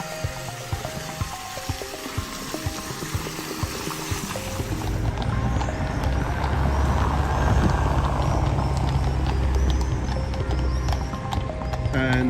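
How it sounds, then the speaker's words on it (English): Horse-drawn carts pass along a street in Krakow, hooves clip-clopping in a steady rhythm among general street ambience, with a low rumble building in the second half. "And here come the horses and carts"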